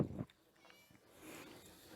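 Cat meowing in the Scary Teacher video game, a short mewing cry at the start followed by quieter in-game background sound.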